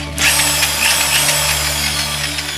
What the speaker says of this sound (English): This is a 1/2-inch hammer drill.